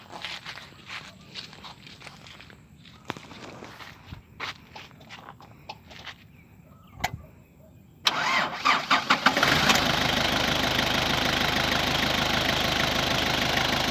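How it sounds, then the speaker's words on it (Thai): A 1994 Nissan Big-M pickup sits quiet at first, with footsteps and small knocks around it, then the engine cranks, catches and settles into a loud, steady close idle. "เดี๋ยวเราสตาร์ทเครื่องนะครับ"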